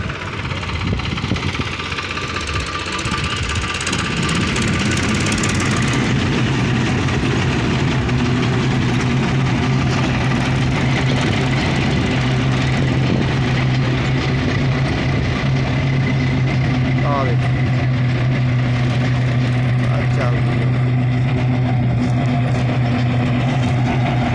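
Several tractors work at close range hauling soil to level a raised plot, their engines droning steadily and heavily with a low rumble and vibration throughout, and no talk over the noise.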